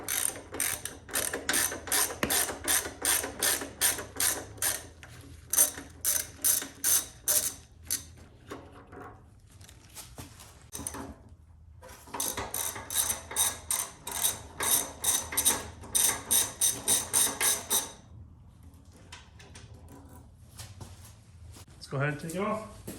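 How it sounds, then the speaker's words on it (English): A ratchet wrench loosens 12 mm bolts on a Kawasaki VN800B motorcycle, producing repeated bursts of fast, crisp clicking with short pauses between bouts, close up and loud. "We got this one here, and we got this one here. They're both 12 mils. Let's go ahead and take those off."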